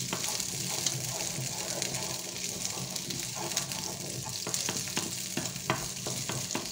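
Beef chunks for boeuf bourguignon brown in a hot pan, giving a continuous close sizzle with scraping and stirring clicks from a utensil, and no one speaking.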